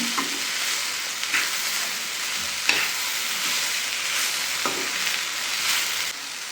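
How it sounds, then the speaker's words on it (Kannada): Tomatoes sizzle steadily in a hot pan for sambar while a utensil scrapes and stirs now and then, sharp clicks against the metal. "ಇವಾಗ ಟೊಮೊಟೊ ಹಾಕ್ತಾ ಇದ್ದೀನಿ ಈ ಥರ ಬೇಯಿಸ್ತಾ ಇದ್ದೀನಿ"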